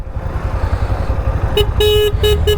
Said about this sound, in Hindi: हॉर्न दे रहे भाई, हॉर्न देंगे।